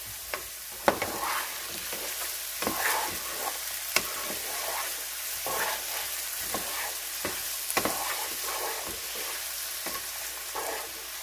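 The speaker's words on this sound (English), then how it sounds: "So you want to stir this around until it gets a little bit cooked." Shredded hash browns fry in a hot pan with a steady sizzle, while a utensil stirs them in repeated scraping strokes that come close and clear, with no talking.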